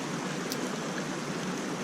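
Steady broadband rush of creek water flowing continuously and fairly close, with no voices over it.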